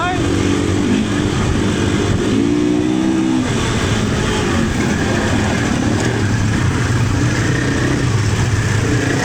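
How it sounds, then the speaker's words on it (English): A KTM 500 EXC dirt bike drones loudly and continuously as it is ridden, its engine note rising and falling, with speech over the engine noise. "Young Michael on the bike."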